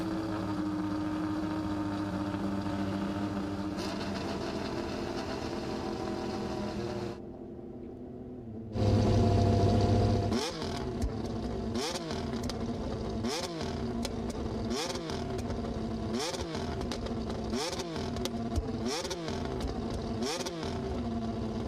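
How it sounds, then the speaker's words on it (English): A McLaren Formula 1 engine runs with a droning tone, then fires up with a loud blip followed by a rapid series of sharp, rhythmic revs. "there's your McLaren engine fire up"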